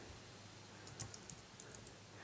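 Keys tapped on a Bluetooth keyboard paired with an iPhone 3GS, a faint run of light clicks with a couple of stronger strokes, close and quiet with no talk.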